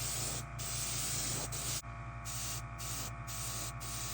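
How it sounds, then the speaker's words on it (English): A double action airbrush sprays paint in a steady, close hiss, broken by several short gaps as the trigger is worked on and off, over a constant low compressor hum. "You just simply have to know how to properly use a double action airbrush"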